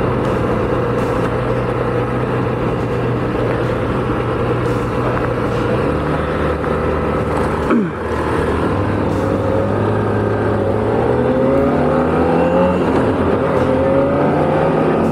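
Aprilia RS 660 motorcycle engine held close and loud, idling and revving in a steady drone with rising and falling pitch sweeps, no talking.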